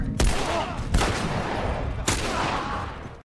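Rifle gunfire in a fast-paced shooter video game, a dense, loud roar of rapid shots with a few sharp peaks, continuous for about three seconds before cutting off.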